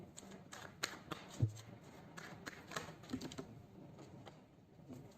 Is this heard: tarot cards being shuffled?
yes